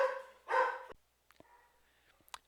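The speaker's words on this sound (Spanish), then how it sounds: "escucharon a uno de mis perros que están aquí conmigo" A dog barks at home during a podcast recording: a loud cluster of harmonic barks in the first second, then quieter scattered yips and faint noises, with no talking.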